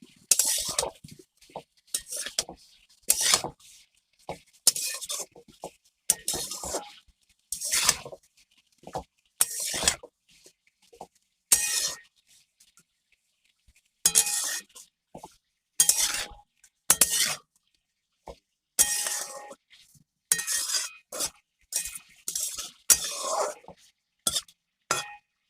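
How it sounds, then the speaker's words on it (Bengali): A spoon scrapes and clinks against a pan while radish, spinach and ginger are stir-fried, heard as irregular bursts of stirring separated by near silence, with a faint sizzle beneath. "এবারে আমি এগুলো সবগুলো একটু ভালোভাবে কষে নেব।"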